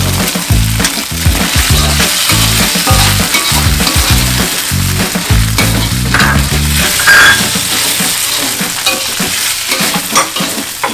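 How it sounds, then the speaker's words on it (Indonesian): Sausage pieces sizzling loudly in a hot pan while a utensil stirs and scrapes in a rhythmic pattern, then the sizzle carries on with lighter stirring. "Selanjutnya masukkan potongan sosis ke dalam wajan."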